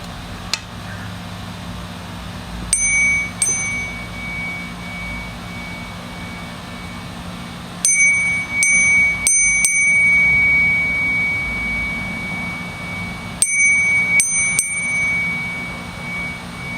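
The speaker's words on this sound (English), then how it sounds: "I'm gonna clear y'all's energy with my bell like I did last time" A small handheld bell rung in several bursts of bright, ringing strikes, each sequence decaying over a couple of seconds against a quiet room background with a faint hum.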